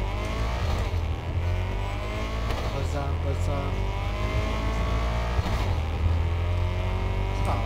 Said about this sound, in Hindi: उसका आवाज भारी है गाड़ी का,